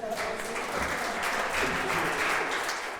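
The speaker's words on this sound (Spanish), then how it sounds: "denles un aplauso a los dos." Audience applause following a religious drama performance about the apostle Paul, a dense steady wash of clapping across the whole clip with a voice briefly heard beneath it.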